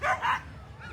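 Sled dogs at the start line of the Fur Rondy Open Class World Championship race on 4th Avenue give two quick close barks, followed by a quieter whimpering tail.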